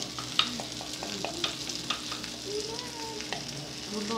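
Food frying in olive oil in a pan, a continuous close sizzle with faint stirring clicks and scrapes throughout, no speech.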